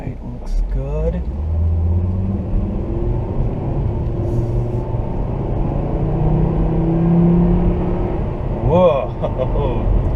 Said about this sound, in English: you get a nice roar from that inline 5, and thanks to that turbo, it really does help things keep going